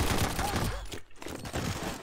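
Rapid automatic weapon fire in a video game on a combat zone map, a dense continuous burst of shots that breaks off briefly near the middle and then resumes, loud and close.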